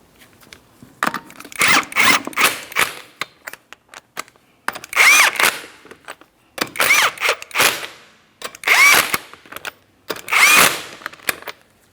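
A power tool snugs up the rear wheel lug nuts on a 2004-2008 Pontiac Grand Prix, running in about six loud, close bursts of whirring and rattling that each last a second or two, separated by short pauses.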